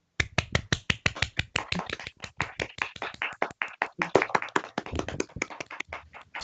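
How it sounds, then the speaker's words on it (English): A conference audience gives a round of applause, a fairly close, rapid flurry of sharp claps that runs steadily for several seconds without talk. "if you wish to either do a virtual or physical round of applause due to your preference, please feel free to do so"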